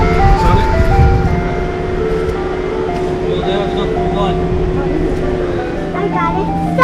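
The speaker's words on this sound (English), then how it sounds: "Right in front of my house is something I didn't think I'd ever see again. An ice cream truck." An ice cream truck passes in front of a house, its chiming tune playing steadily over a running engine rumble, loud and close.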